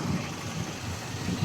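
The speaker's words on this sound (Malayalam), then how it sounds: "രണ്ട് ഭാഗവും മോട്ടോർ സൈക്കിളും കാറും." Steady low rumble of motorcycle and car engines idling and creeping through busy, jammed traffic near a garden parking area, a continuous mid-level drone with no distinct passes.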